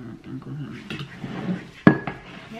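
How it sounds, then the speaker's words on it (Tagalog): Dishes being washed in a home kitchen, with soft clinks and scrapes of plates and cutlery and one sharper clatter partway through, close by under quiet talk. "ang galing ako magbugas ng pinggan"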